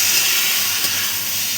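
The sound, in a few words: rice frying in a pan with spices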